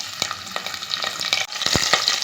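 Loud, steady sizzling of garlic frying in hot oil with cumin, with occasional stirring clinks and scrapes.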